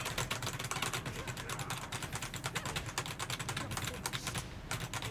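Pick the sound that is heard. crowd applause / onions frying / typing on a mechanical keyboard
typing on a mechanical keyboard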